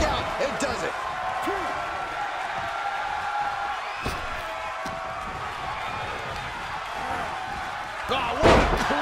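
A clothesline slam lands in a WWE 2K23 wrestling match, one sharp impact near the end over a constant roaring arena crowd, with commentators talking throughout.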